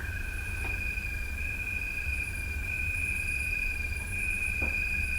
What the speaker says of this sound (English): And the field cricket.